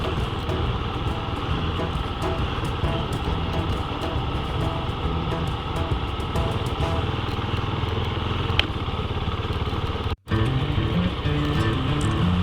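A motorcycle rides along a gravel backcountry road on the Montana Backcountry Discovery Route, giving a steady, loud engine drone mixed with wind and rumbling tire noise, broken by one brief dropout.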